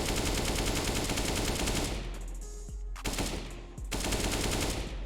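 Rapid automatic gunfire rattles loud and close in CS:GO, a dense sustained burst that stops abruptly, followed by a couple of sparse single shots during a short pause before the firing resumes.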